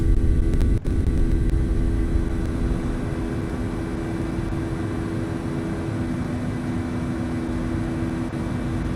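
Airliner on its takeoff roll in a flight simulator game, a steady loud low engine roar with a constant hum, holding level throughout without speech.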